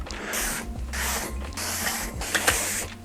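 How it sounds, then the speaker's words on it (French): A nylon brush passes back and forth over the waxed base of an alpine ski, taking off excess wax and polishing it. The strokes come as steady, rhythmic, close scrubbing swishes, several in a row, with a faint hum underneath and no voices. "on a passé notre brosse nylon."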